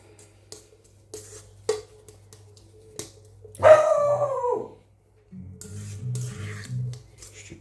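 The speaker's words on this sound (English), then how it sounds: "Stupid dog." A dog lets out a drawn-out howl followed by a run of barks, close and fairly loud, with scattered clicks and knocks in the quieter moments before.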